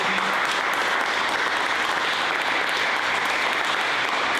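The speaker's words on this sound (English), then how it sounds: "Let's give one last round of applause for our three amazing presenters." A conference crowd gives a final round of applause for three tech presenters, a thick, even roar of clapping sustained throughout, moderately loud and unbroken.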